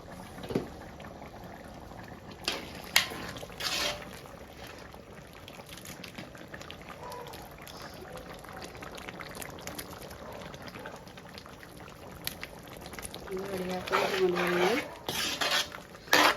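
Lentils with turmeric bubbling in a pot, a soft steady simmer with occasional utensil clinks and a louder stirring scrape near the end.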